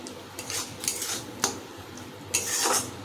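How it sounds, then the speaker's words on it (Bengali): Metal spoon scraping and clinking against a pot as Bengali spice masala for a thin egg and potato curry is sautéed, several sharp clanks with brief gaps, close and fairly loud, no voices. "এবার মশলাটা কষাবো"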